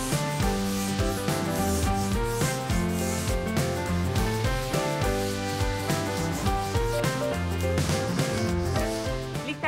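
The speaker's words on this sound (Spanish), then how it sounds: "solamente le voy a dar una lijada superficial para nivelar y mejorar la superficie" Steady rhythmic scraping of sandpaper on wood, rubbing back and forth under a layer of tonal music.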